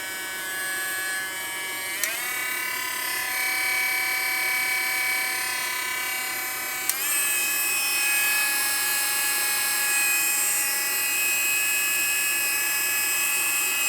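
A Hoto cordless rotary tool motor spins unloaded at 25,000 RPM, giving a steady high-pitched whine that jumps up in pitch twice with small clicks, running alone.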